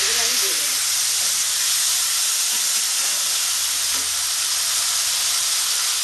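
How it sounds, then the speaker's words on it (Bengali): Salt and turmeric coated prawns dropped into hot oil with panch phoron, a loud continuous hissing sizzle that holds steady throughout, close and without talk. "পাঁচফোড়নটা ফুটে গেছে, এবার আমি নুন হলুদ মাখানো মাছগুলো এতে আমি দিয়ে দেবো"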